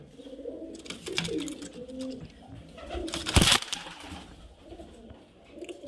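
Pigeons coo repeatedly in low, throaty warbles nearby, with a sharp knock or clatter partway through.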